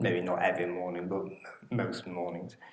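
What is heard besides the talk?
No everyday noise stands out behind the speech.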